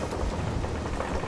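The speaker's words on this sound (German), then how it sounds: "wir sind mitten im Sturm" A storm with rain in the video game Sea of Thieves makes a dense, loud roar of rainfall with a low rumble, continuous and enveloping across the whole brief moment.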